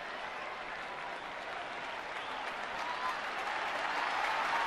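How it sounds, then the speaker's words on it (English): Baseball stadium crowd applauding for a departing pitcher, steady broad clapping and cheering that swells slightly toward the end, heard at a moderate distance. "So a nice round of applause for Bumgarner."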